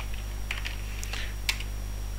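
Someone types a short command on a computer keyboard, giving a few soft, close key clicks over a steady low electrical hum.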